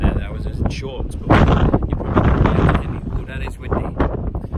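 Strong gusts of wind on the Great Ocean Road, Australia, buffet the microphone with heavy, rumbling bursts, while a person talks faintly underneath.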